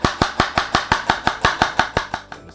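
Julienne onions cut with a knife on a board while preparing Nigerian okro soup: about a dozen crisp, evenly spaced chopping strokes at a quick steady rhythm, close and distinct, with no talking.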